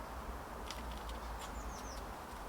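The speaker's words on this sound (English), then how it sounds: "Listen to the bird song and all that kind of thing." Faint bird song at an allotment garden in April, a few thin high chirps and short descending whistles over a low wash of wind and distant background rumble, with no one speaking.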